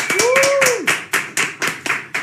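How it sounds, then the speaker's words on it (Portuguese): In a podcast studio, a brief vocal whoop opens into a handful of sharp, evenly spaced claps, close and loud, a small group applauding rather than a large crowd. "um forte aplauso para o Luciano"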